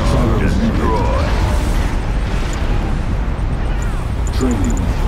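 A nuclear missile strike detonates in Command & Conquer 3: Tiberium Wars, a loud sustained roaring blast rumbling continuously throughout with dense low-end, while game voice lines and faint tonal effects sound over it.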